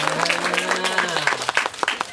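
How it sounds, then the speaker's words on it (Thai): Clapping from a group during a children's storytelling session, sharp repeated claps mixed with voices talking and calling out together. "เราจะปรบมือพี่ต้นหลิวอีกครั้งหนึ่ง"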